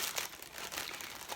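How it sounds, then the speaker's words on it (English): Crinkly plastic packaging holding a cross-stitch piece on antique white 20 count Aida fabric rustles softly and continuously up close, with faint crumpling bursts and no voices. "sorry for the rustling"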